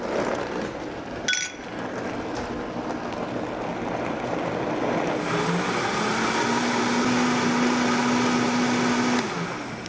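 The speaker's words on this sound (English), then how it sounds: "Into your blender." A blender purees shallots, garlic and saltine crackers, running as a steady loud whir that holds for the whole stretch and rises in pitch partway through, with a brief clink near the start.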